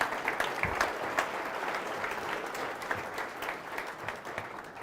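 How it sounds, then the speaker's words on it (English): An audience applauds at a live talk: dense, steady clapping from many hands fills the space for several seconds at an even level, with no voices over it. "Give them a big round of applause"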